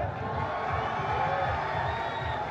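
An audience at a Barishal gathering for local achievers claps and cheers in a dense, steady mass of sound, with scattered voices mixed in and no single clear speaker.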